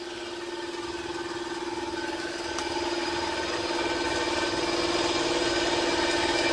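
A generator engine runs steadily at close range, a constant droning hum with a strong steady tone that builds slightly louder over the span, no talking.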